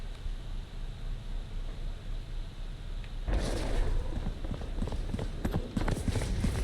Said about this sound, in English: Somebody's gonna hear these footsteps.